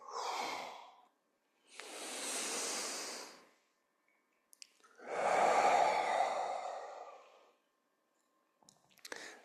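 Slow, deep breaths in and out during seated chair yoga, three long airy exhalations separated by silence, close and soft, with no talking.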